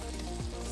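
Butter and flour cook into a roux for béchamel, a brief, steady sizzle close by with no speech.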